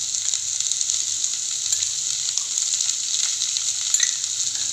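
Sliced big onions frying in oil as they are stirred, a bright, continuous sizzle with small crackles and stirring scrapes, close and steady throughout.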